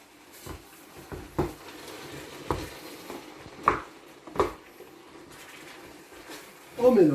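Onions sautéing in a pot for a fish and vegetable tagine, with several sharp utensil knocks and scrapes against the pot over a quiet low sizzle, and a louder clatter at the end.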